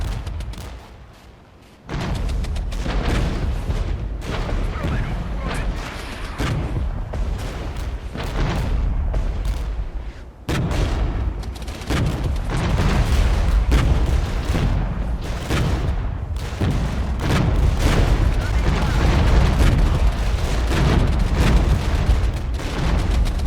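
Artillery fire in the Regiments war game booms repeatedly during a large tank engagement, a run of loud, heavy blasts and rumbling impacts that continue almost without pause.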